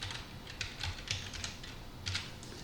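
Quiet clicking of a computer keyboard as a root password is typed, a short run of close, irregular keystrokes with small pauses between bursts.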